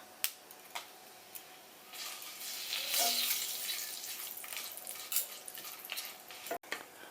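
Bay leaves, green chillies and tempering spices fry in oil for a drumstick vegetable curry, giving a quiet, continuous sizzle broken by a few sharp utensil clicks and taps.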